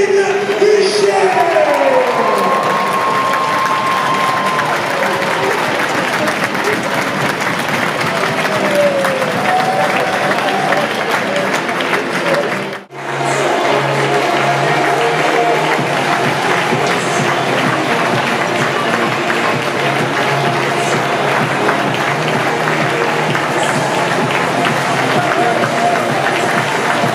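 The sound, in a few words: crowd applause in an arena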